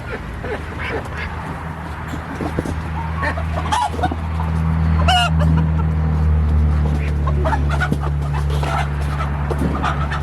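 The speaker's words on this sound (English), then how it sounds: "That's a rooster." A rooster crows among ducks and other poultry during a duck round-up while a new poultry crate is being assembled, the call rising over steady low barnyard hum and scattered quacking, fairly close.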